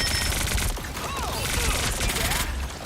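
Dense, continuous rapid gunfire from a competitive online shooter game, a sustained rattling fusillade layered with game effects and sweeping tones, loud throughout.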